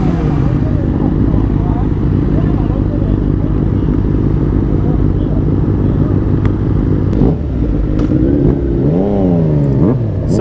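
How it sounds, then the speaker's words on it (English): Sports motorcycles running loud and close, a continuous rumbling engine roar with rising revs toward the end, as a voice speaks over it. "Oh my god man, look at their bikes."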